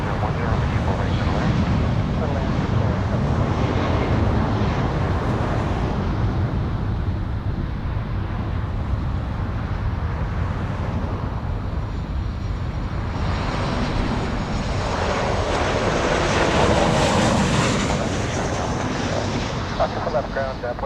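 A fixed-wing airliner's jet engines roar continuously as it departs Los Angeles International Airport, loud and sustained with wind buffeting, swelling louder near the end.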